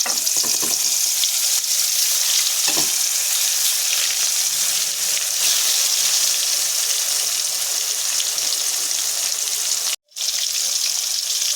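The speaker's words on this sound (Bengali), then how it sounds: "দেখো, মাছগুলো লাল লাল করে ভেজে নিয়েছি।" Pangas and tengra fish fry in hot oil with a steady, dense sizzle and faint crackle, broken by an occasional stir and a brief cut-out near the end.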